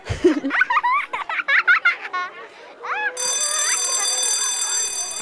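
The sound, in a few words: school bell ringing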